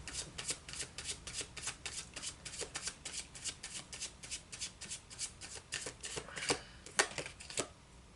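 Wizard's Tarot cards shuffled in a steady run of crisp riffling bursts, close and alone, going on without pause.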